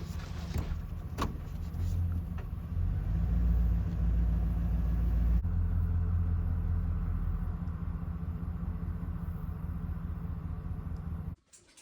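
A truck engine idles steadily at a mountain firewood outing, a low continuous rumble that holds for about eleven seconds before cutting off abruptly at the end.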